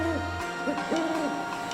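An owl hoots a few soft, wavering hoots at sea in the Paper Mario: The Thousand Year Door video game, heard over a steady game background hum.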